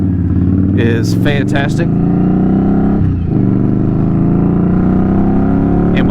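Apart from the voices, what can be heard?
motorcycle engine revving with Tier 1 tune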